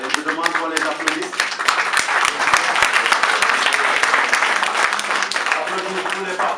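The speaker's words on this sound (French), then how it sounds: "Et je demande qu'on les applaudisse." Audience at the Gorée Diaspora Festival colloquium on Gorée island applauding participants, sustained dense clapping throughout with a voice briefly heard over it.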